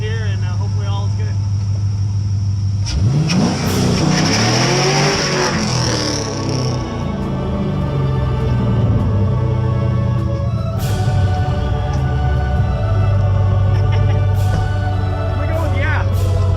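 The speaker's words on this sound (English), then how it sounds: "I'm gonna do a quick little burnout here, and hopefully all is good" A BMW E46 with a welded differential and 3.46 gear ratio doing a burnout: a loud engine revs and roars close by, rising and falling across the clip, with a continuous low rumble throughout.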